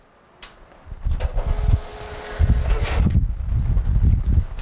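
An Epson TM-T88 receipt printer runs its self-test print, making a whirring, buzzing mechanical drone with bursts of feed noise and a faint whine, close and fairly loud, with no talking.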